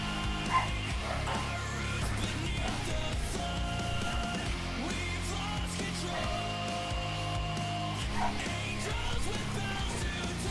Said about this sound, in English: I can just hear the dogs.